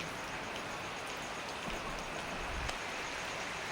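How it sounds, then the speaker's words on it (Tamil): Heavy early-morning rain pours steadily in a dense, even hiss, with a faint low rumble partway through that could be distant thunder. "நல்ல இடி மின்னலோடு நல்ல மழை பெய்கின்றது"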